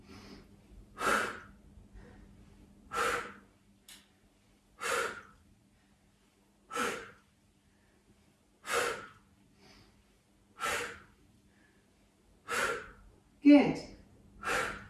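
Deep rhythmic breaths during a yoga boat pose, about eight strong exhales spaced roughly two seconds apart, each a loud, close, breathy whoosh with quiet gaps between.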